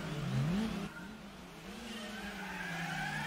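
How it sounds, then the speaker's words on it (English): Wheelspin from a wrong-wheel-drive car at Suzuka East in Gran Turismo 4, heard as a revving engine note rising and falling with a whining tire spin, fairly quiet and steady, no voices. "Wheel spin."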